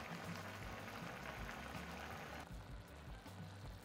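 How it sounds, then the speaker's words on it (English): A cream and chicken stock sauce simmers in a pan, giving a faint, steady bubbling hiss with small irregular pops that ease slightly toward the end. "Let that simmer for about 2 to 3 minutes."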